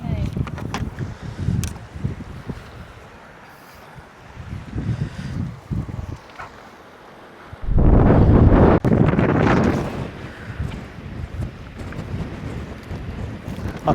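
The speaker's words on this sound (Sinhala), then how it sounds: "මොකද හුළඟ එකපාරට වැඩි වුණා" A sudden strong coastal wind at Fletcher Bay hits the microphone in heavy roaring gusts, loudest in a burst midway, with quieter stretches of wind and faint voices around it.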